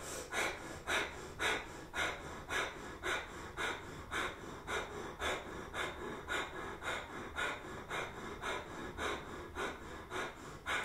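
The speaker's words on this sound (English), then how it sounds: "Pumping the navel as the breath comes in and out of the nose." Rapid Kundalini breath of fire through the nose, the navel pumping with each stroke. Quick, even, forceful sniffing exhalations repeat about twice per second for the whole stretch, close and distinct, with no talking.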